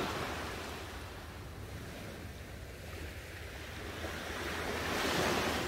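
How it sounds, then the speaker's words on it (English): Ocean waves washing in a continuous broad surf roar, steady and fairly loud with a gentle swell building toward the end, mixed with some wind noise and no voices. "Continue to observe the rhythm of the peaceful waves flowing with the rhythm of your breath."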